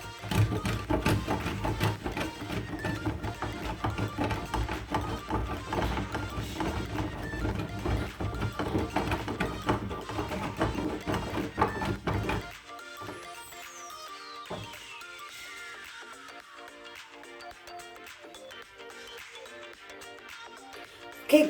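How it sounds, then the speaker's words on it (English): A bar of Dove soap is scraped against a grater for homemade kids' bath soap with carrot, a dense, steady rasping that fills the first half before dropping away to quieter tonal sounds. "I've scraped the Dove soap. This is my Dove soap. I've scraped it."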